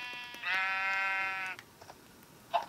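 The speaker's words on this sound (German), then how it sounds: "Oh, ein weißes Schaf." A sheep in the video game Minecraft gives one sustained, clear bleat lasting about a second, close and moderately loud, followed by faint game clicks.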